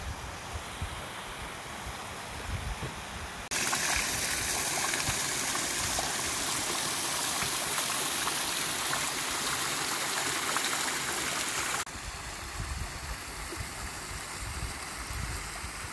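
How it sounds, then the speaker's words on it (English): A waterfall cascades in a Highland stream near Ben Ledi in Scotland, a steady broadband rush of falling water. It swells much louder and nearer in the middle stretch, then drops back to a softer flowing babble, with no voices. "A waterfall cascading"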